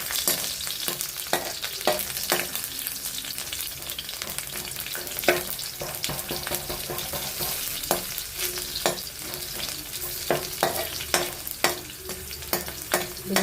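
Mustard seeds spluttering and crushed garlic frying in hot oil with curry leaves for an ivy gourd stir-fry, a dense close sizzle broken by frequent sharp pops and crackles, no talking.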